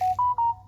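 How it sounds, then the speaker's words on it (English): A phone ringtone chirps out a short, clear electronic melody of three bright rising beeps over a low steady hum, close and brief. "that's my phone"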